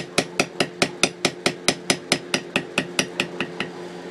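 A mallet drives a beveling tool into leather in a steady run of about sixteen sharp, evenly spaced strikes, each one a crisp close knock with a quick decay.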